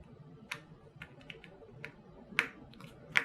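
A keycap clip on an HP Pavilion 15-CX laptop keyboard gives several small, sharp plastic clicks and taps, close and quiet, spaced irregularly, with a louder snap near the end.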